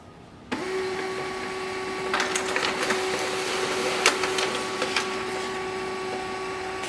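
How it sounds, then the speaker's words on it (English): A Canon imageClass LBP122dw printer whirs to life with a steady motor hum, joined by rhythmic mechanical clicks and paper-feeding rustles as it prints a document. "The printer is working."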